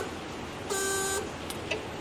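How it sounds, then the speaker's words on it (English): A Datsun 260Z seat belt warning buzzer sounds a steady electronic tone for about half a second at ignition, followed by a couple of faint short beeps in a quiet room. "I turn on my ignition switch, and there's our buzzer"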